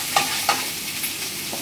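Onion and pumpkin fry in a pan, with a constant close sizzle and two or three quick stirring scrapes.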